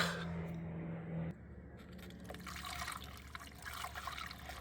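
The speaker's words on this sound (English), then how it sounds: "sometimes it'll take a second to glug down in there, but usually this is a container or close to a full container of fluid" Windshield washer fluid pours from a nearly full container into the reservoir of a VW Passat, trickling and splashing steadily for several seconds.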